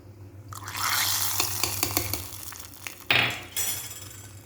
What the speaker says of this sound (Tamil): சாதம் பாருங்கள் நல்லா கொதித்து வருது